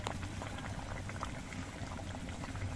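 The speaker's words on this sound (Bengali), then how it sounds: "এবার এর মধ্যে আমি পাবদা মাছগুলো দিয়ে দিচ্ছি" Gravy for a pabda fish curry with lentil dumplings bubbles steadily at a rolling boil as the fish goes in, a dense, even burble and hiss close by with no voices.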